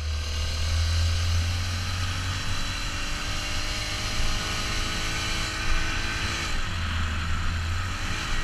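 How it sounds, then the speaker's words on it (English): A 4-stroke motorized bicycle engine hums at a lower pitch, close and steady, with a sustained drone whose tone shifts slightly as speed changes. "the 4-stroke has a lower toned hum to it."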